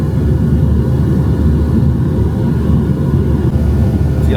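Airliner engines roaring at a steady, loud drone during takeoff and climb out of Charlotte, heard from inside the cabin, a dense low rumble with constant broadband hiss and no voices.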